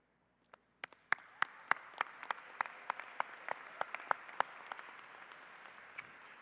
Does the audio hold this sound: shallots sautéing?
no